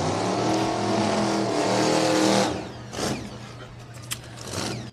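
A race car roars past on the high banks of Salem Speedway, its engine loud and steady for a couple of seconds before dropping away, followed by quieter passing noise and a sharp click.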